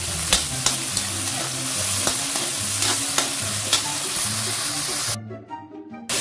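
Kangkong (water spinach) with soy sauce being stirred in a hot pan, a steady close sizzle with repeated scraping strokes of the spoon, cutting off sharply near the end.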